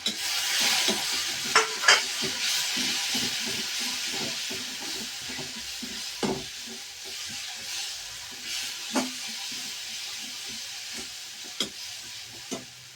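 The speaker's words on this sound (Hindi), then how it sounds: "ये अदरक लहसुन का पेस्ट भी भून गया है। और अब डालेंगे इसमें मसाले" Ginger garlic paste and spices fry in a pan for a Srinagar-style local fish dish, giving a steady sizzle broken by frequent scraping stirs and a few sharper clinks, close and fairly loud with no talking.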